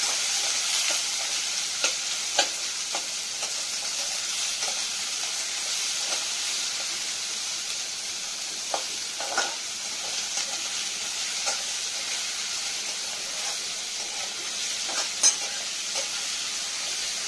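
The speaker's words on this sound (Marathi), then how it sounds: "कांदा चांगला परतून घेणार आहोत आपण." Finely chopped onion sautéing in a pan for upma makes a steady, close hissing sizzle with regular light scrapes and taps of a spoon stirring, continuous throughout with no talking.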